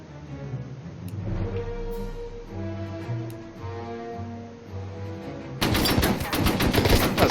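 Artillery fire in the Order of Battle war game erupts suddenly after a stretch of calm background music, a dense, loud volley of rapid blasts continuing to the end.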